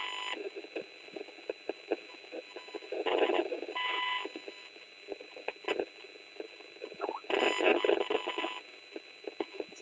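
Faint electronic beeping pulses come in bursts against a quiet background, with short ticking and clicking sounds scattered between them.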